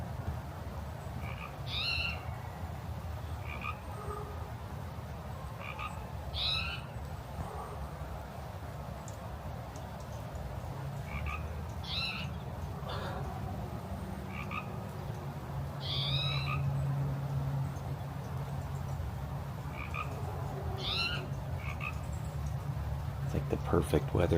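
Frogs croak and night birds call at dusk under blackening skies in stormy Oregon weather, repeated chirping calls standing out over a steady low rumble of wind and rain, with no talk.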